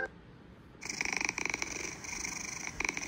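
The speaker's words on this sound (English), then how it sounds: "No, you're not gonna purr." A soft, rhythmic cat purring from the game Talking Ginger 2, with pulsing bursts, beginning after a brief quiet moment and continuing steadily with a slightly electronic, synthesized quality.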